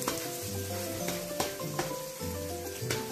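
Onion sizzling in a hot pan while cooking beef lomi, a continuous crackling fry with occasional stirring clinks and scrapes, close and steady.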